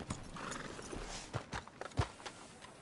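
Horse hooves clip-clop at a steady, close walk in Red Dead Redemption 2, approaching a sheriff's office in a frontier town, with several sharper hoof strikes standing out over a soft game ambience and no talking.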